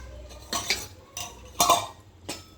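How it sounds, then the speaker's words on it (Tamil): Hibiscus flowers cooking in a pot get stirred with a metal spoon, giving three or four distinct close scraping clinks against the pot, separated by short quiet gaps. "இதை இப்படி அடிக்கடி கிண்டி விட்டுக்கிறோம்"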